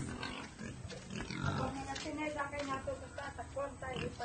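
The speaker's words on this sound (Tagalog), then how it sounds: "yung baboy namin, walang asal minsan" A pig grunts and snuffles on a farm on Babuyan Island at feeding time, low and close, mixed in under steady conversation.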